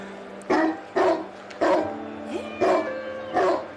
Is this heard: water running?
no